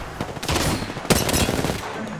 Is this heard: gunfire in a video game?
yes